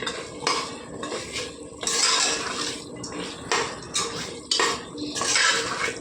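A spoon scrapes and clatters against a metal pot while mutton curry is stirred, in loud, close bursts of metallic scraping with a wet, sloshing undertone and short pauses between strokes.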